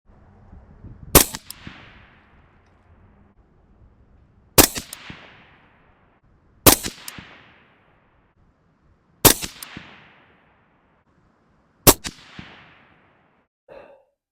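An AR rifle fires five rounds at an outdoor range, each one a sharp loud crack with a short echoing tail, spaced two to three seconds apart.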